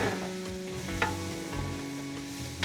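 Onions roast with salt in a pan for biryani, giving a continuous close sizzle broken by scraping stirs of a spoon against the pan, with no voices.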